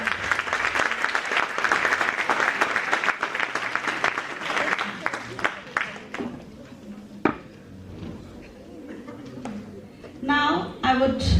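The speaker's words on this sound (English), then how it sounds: "please give a big round of applause." Audience applause at an international conference ceremony, a dense sustained clapping from a large crowd that fades out midway, followed by scattered claps, a brief burst near the end and some voices.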